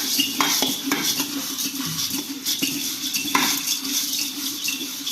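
Girmit masala mixed with a spoon in a bowl, giving a continuous close scraping and clinking with brief louder taps, steady and busy throughout.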